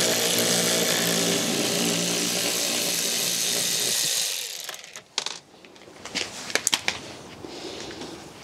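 A power driver runs loudly and steadily for about four seconds while backing 8mm screws out of a BMW 1 Series cabin air filter box. Sharp clicks, rattles and small metallic knocks of parts and screws being handled follow.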